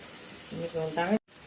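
Tomatoes sauté in a pan for egg Maggi, giving a soft, steady sizzle beneath a voice speaking close by, then a brief cut to silence.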